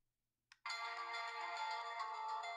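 A Goloza digital alarm clock plays a bright electronic music tone, a brief blip followed by a steady sustained melody, close and clear with no talking.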